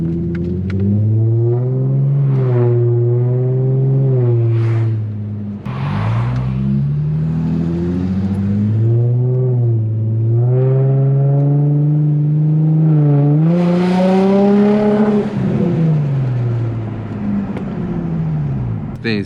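An Infiniti G35 engine pulls hard on the freeway from inside the car, loud and close, the tone climbing through the gears in several rising surges, with brief dips at each shift.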